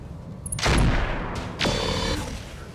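Mech weapons firing in the Battletech (Roguetech) video game, with two heavy booming shots about a second apart, each trailing off into a long rumbling decay over a low background din.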